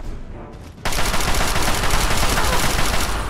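Sustained assault rifle fire in Fallout 3 bursts in after a short quieter lead-in, a loud, dense stream of rapid shots spraying continuously to the end.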